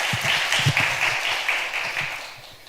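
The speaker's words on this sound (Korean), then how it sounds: "그럼 환영의 박수 부탁드립니다." An audience at a Korean Physical Society quantum session gives welcoming applause: a short burst of dense clapping from a room of listeners that fades out over a couple of seconds.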